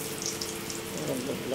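Donut dough frying in hot oil in a home kitchen, a steady crackling sizzle that runs throughout, with faint voices in the background.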